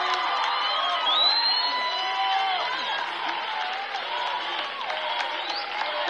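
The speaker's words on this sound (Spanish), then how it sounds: "Aquí están tus profesores aplaudiendo de pie. El público también" Teachers and audience at a La Academia 2019 singing-contest concert give a standing ovation. Sustained applause is mixed with cheering, whoops and shouting voices throughout.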